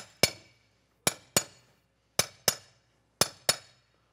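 A mason hammer striking a concrete wall block, seven sharp ringing impacts falling in loose pairs, each a bright close crack with a quick decay, alone with no talk.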